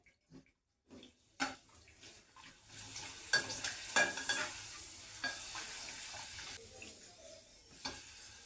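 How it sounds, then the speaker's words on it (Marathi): Urad dal papad frying in hot oil in a pan gives off a continuous close sizzle, with bursts of crackling bubbling after a short quiet start. "आता ह्यामध्ये मी हे पापड जे आहेत ना ते तळून घेते."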